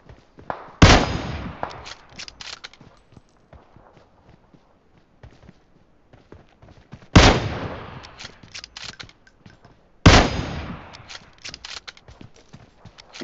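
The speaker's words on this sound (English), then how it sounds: "I shot the guy that was shooting them." Gunfire in the PUBG Mobile video game during a squad match in a swamp map: three sharp, loud bursts of shots, each trailing into a rattling tail, separated by quieter stretches.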